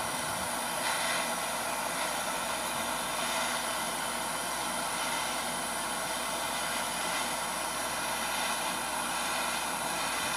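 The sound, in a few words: torch flame heating a glass tube straw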